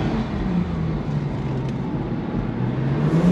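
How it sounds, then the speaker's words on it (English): A sports car turning sharply on the road, heard from inside the cabin as a steady, low engine and road drone whose pitch climbs slightly toward the end. "Let me make a quick U-turn here."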